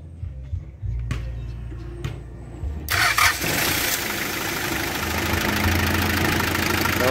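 An engine cranks in a few short bursts, then catches after a start relay repair and settles into a steady, close idle that runs to the end.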